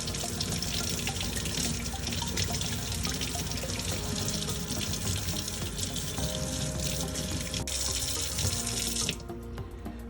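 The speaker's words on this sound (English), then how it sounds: "Let's try running it under a tap of water and see whether it survives." A phone is held under a running kitchen tap at a sink, water streaming steadily and splashing for several seconds before the flow cuts back to a quieter trickle near the end, no talking.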